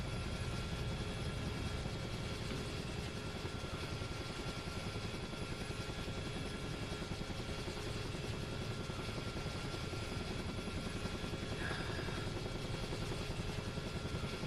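A UH-1H helicopter in a flight simulator game gives a steady, loud rotor and turbine drone that continues without a break, with no voices over it.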